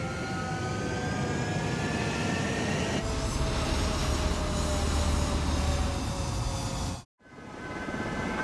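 A jet aircraft waits on the runway in Ace Combat 7 with a loud, steady engine roar and rising whine, then cuts off abruptly before the drone returns.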